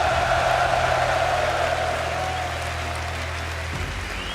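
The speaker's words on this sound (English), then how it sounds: "Leon, each of these players deserves their own big applause" Steady, dense applause from a large crowd at a Rocket League world championship playoff fills the space, loud and continuous, with a low hum running beneath it.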